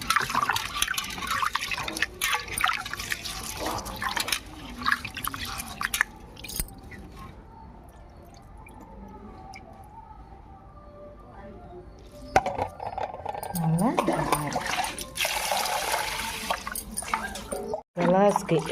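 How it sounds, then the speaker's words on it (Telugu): Basmati rice, about a quarter kilo, being washed in water in a home kitchen, with sloshing, swishing and dripping sounds that stop for a quiet stretch and then return with splashing near the end, while someone talks over them. "శుభ్రంగా కడుక్కుందాం. ఒకటికి 2 సార్లు కడుక్కోవాలండి శుభ్రంగా"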